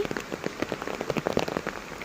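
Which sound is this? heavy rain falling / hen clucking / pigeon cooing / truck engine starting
heavy rain falling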